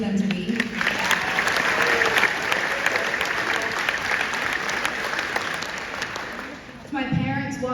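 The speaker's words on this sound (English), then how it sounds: "Let's also have a round of applause for all of our parents and guardians who were there when we needed them to be." At a high school graduation, the crowd applauds parents and guardians with a long, dense wave of clapping that fades near the end before a voice comes in over the tail.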